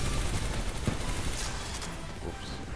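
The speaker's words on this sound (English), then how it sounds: "L-Star, I really haven't used this gun in forever" Fairly quiet, steady automatic fire from the L-STAR gun in Titanfall 2 forms a continuous dense clatter with a few sharper pops standing out.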